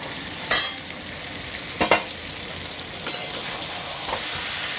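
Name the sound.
duck eggs and potatoes sizzling while sautéed in pan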